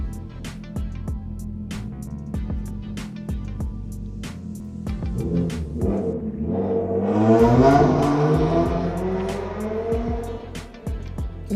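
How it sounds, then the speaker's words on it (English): Loud cars pass through a residential neighborhood, a rumbling engine that swells with a rising, revving roar around the middle and then fades, heard from indoors under faint clicking sounds. "We got 2 or 3 cars in our neighborhood that are very loud."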